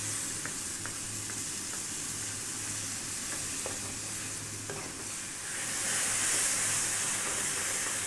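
Tomatoes sizzle steadily in a pot for an Ethiopian split pea stew, a continuous close frying hiss with a few soft stirring scrapes, swelling slightly louder near the end.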